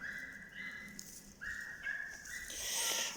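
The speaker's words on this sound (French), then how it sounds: "j'ai ma chienne avec moi" A female dog outdoors in Kerala, after dogs chased a deer, gives faint, repeated high-pitched whines and whimpers in short drawn-out bursts against a quiet background.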